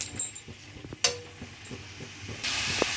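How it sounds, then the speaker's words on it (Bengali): Mustard greens frying with eggplant and lentil dumplings give a soft hiss that swells into a louder sizzle near the end, with a few light clinks of a utensil against the pan. "বেগুন আর বড়িটা দেওয়ার পরে কিন্তু আরও 4-5 মিনিট মতন শাকটাকে ভেজে নিতে হবে বা কষিয়ে নিতে হবে।"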